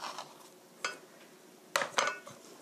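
A utensil scrapes and clinks against a bowl while green pepper pancake batter with carrot, garlic and green onion is mixed, with a few sharp knocks between quieter stirring.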